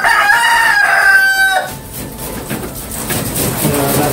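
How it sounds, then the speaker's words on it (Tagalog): Dekalb Brown and Rhode Island Red chickens crow and cluck close by, a loud rooster call at the start followed by a busy mix of clucking and farmyard chatter. "Ito nga pala yung ating new breed chicken."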